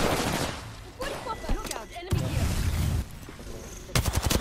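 Loud, dense gunfire in Apex Legends rattles on in overlapping bursts and rapid automatic volleys, with a player's voice briefly cutting in over the shooting.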